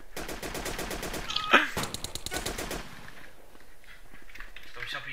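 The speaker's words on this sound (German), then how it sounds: "Jemand schießt auf mich." Rapid automatic gunfire from a weapon in the DayZ video game mod for MTA, a loud stuttering burst of close shots followed by scattered quieter reports, with players talking over the action.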